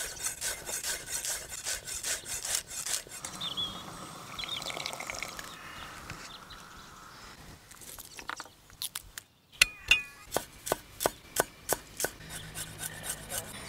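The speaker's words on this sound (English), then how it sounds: "So I'm going to finely chop up this leek, the sage, and also some garlic." Knife finely chopping leek, sage and garlic on a board, first soft scraping and rubbing strokes, then a brief lull followed by a run of crisp, evenly spaced cuts, close and alone.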